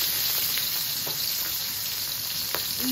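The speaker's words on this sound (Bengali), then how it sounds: "চিংড়ি মাছ অবশ্য হালকা ভাজতে হবে না, খুব বেশি ভাজা লাগবে না" Shrimp fry in a pan with a little salt and turmeric, giving a steady, close, continuous sizzle with faint crackles and no talking.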